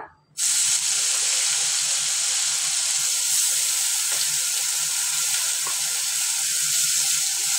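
A paste of onion, garlic, ginger and green chilli hits hot oil for chicken kosha and bursts into a loud, continuous close-up sizzle that holds steady throughout.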